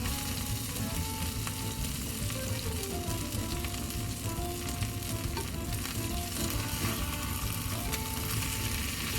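French toast, bread soaked in egg, fries in a pan with a dense, steady crackling sizzle close up, occasional scraping clatter, no voices.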